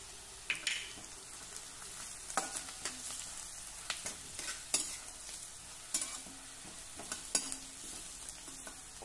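Onion, chili, curry leaves and turmeric stir-frying in a pan for matki, a steady close sizzle with repeated scraping strokes and clicks of a spatula against the pan.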